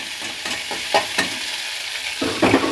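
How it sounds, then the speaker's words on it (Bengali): Flattened rice (chira) is stirred and fried in a hot pan for a sweet payesh, a close crackling sizzle punctuated by quick scraping strokes of the spoon. "এগুলোকেও ভালোভাবে আমি এখানে নাড়াচাড়া দিয়ে ভেজে নেবো"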